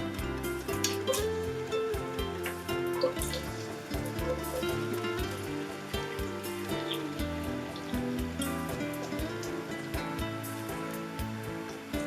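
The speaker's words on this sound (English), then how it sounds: "As it started to sizzle." Onions or oil sizzle steadily in a pan while homemade Egyptian koshary is cooked, a continuous crackling hiss with light pops, close and moderately loud, with soft background music underneath.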